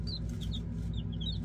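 A small backyard flock of Rhode Island Red and Top Hat chickens, including one rooster, clucks softly in short chirpy calls over a low steady rumble, faint and without talk.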